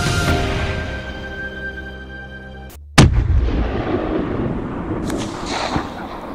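A single sharp, loud hunting rifle shot at a roebuck hunt in Poland cracks out after a tonal hum cuts off, followed by a rolling echo and outdoor ambience.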